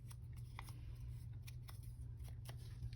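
Thin hair-thinning scissors used for a craft cut, giving a series of faint, crisp snips at irregular intervals over a low background hum.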